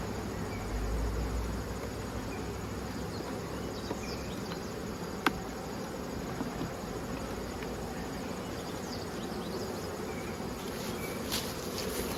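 Honey bees humming and buzzing inside a hive being prepared for early winter, a steady dense drone filling the whole clip with a single sharp click midway and no talking.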